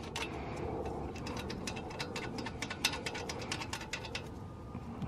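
A brake caliper bolt being threaded back in on a 2004-2009 Toyota Prius during a front brake pad job: a quick run of faint ratcheting clicks, rapid and fairly even, close but quiet against a low background hum.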